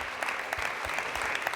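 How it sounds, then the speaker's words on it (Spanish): Steady applause from the audience at the Cervantes Prize ceremony, as the award collar is presented, forms a dense, even clapping crowd sound throughout. "recibe el aplauso de los presentes"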